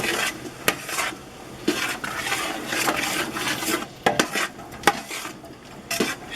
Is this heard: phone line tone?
no